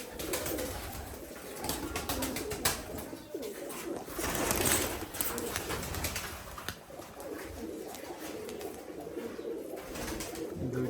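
Rajshahi Giribaj pigeons cooing at their coop, a soft repeated murmuring coo close by with some rustling and movement in the background and no speech.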